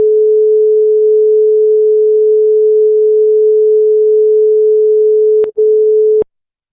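Two tones of nearly the same pitch sound together, giving a loud steady hum that beats slowly in intensity, then is cut off by two sharp clicks near the end.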